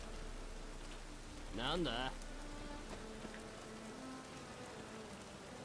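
Rain falls steadily on surfaces in The Witcher 3, a soft constant hiss of drops, while a voice speaks briefly partway through.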